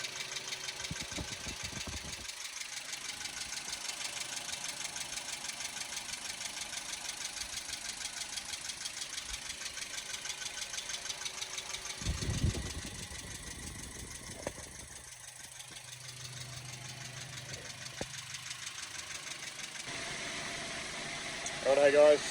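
A 1999 Ford Courier 2.6-litre engine runs at a steady idle with a rhythmic, diesel-like knock, heard close and continuous with a brief rise in revs partway through.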